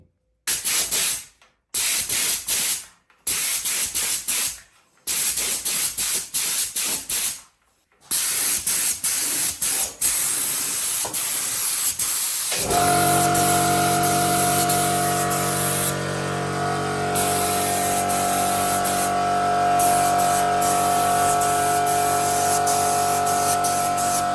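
Short bursts of heat-resistant aerosol paint, rated to 800 degrees, hiss in a stop-start rhythm while coating a pan made from a disc harrow blade, then a long continuous spray with a steady mechanical hum beneath.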